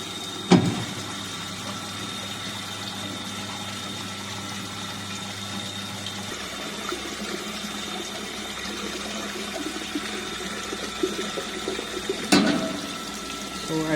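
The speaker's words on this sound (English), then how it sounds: "Now we will collect water in storage tank for next 1 minute." Water flows steadily into the storage tank of a flow measurement rig, a continuous rushing hiss with a low pump hum, with two sharp knocks near the start and end.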